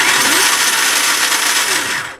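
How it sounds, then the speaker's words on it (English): An electric motor on a test rig drives a cheap, noisy gearbox, giving a loud, continuous, harsh rattling whine that holds steady for a couple of seconds and then trails off slightly at the end. "It's extremely noisy and rattly, and obviously, as I say, it's a terrible gearbox"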